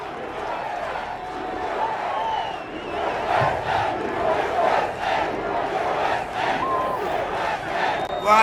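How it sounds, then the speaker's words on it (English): Rally crowd in Iowa roaring and chanting at a Donald Trump speech, a loud sustained wall of cheering voices and whoops rising toward the end. "What a crowd."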